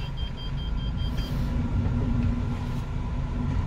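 A warmed-up car reverses with a steady, low engine rumble close by, with no talk over it and a brief high tone in the opening second.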